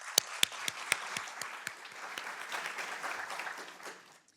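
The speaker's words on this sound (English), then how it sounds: "can we just give her another round of applause" An audience at a cultural diversity show claps after a performance, opening with a few sharp, close claps that swell into steady applause before fading out.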